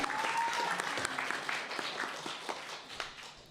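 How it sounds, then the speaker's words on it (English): An audience at an end-of-term showcase show applauds steadily, a dense close wash of clapping that fills the room and fades only slightly by the end, with a faint voice briefly audible early on. "Round of applause for that one."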